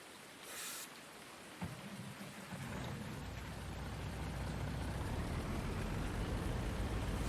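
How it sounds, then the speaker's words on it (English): Rain sets in over a West Texas ranch in Farming Simulator 19, starting as a soft hiss and swelling into a heavy, continuous downpour with a deep rolling rumble of thunder beneath it and no voices. "Looks like the rain has set in."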